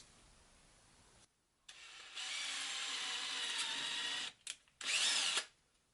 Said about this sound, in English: I have to drill a hole all the way through all 3.